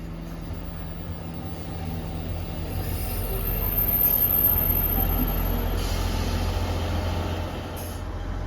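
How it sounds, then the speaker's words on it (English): A ScotRail Class 158 diesel unit pulls out of North Queensferry station toward Edinburgh Waverley, a steady low rumble that swells and fades with brief high wheel squeals. "Departing out now is the 1516 ScotRail service from Cowden Beef to Edinburgh Waverley."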